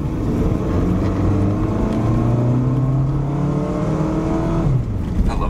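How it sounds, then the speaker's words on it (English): A car engine revving steadily while driving, heard from inside the car as a loud continuous drone with rising and falling pitch, close and dominant throughout. "The sound of my car."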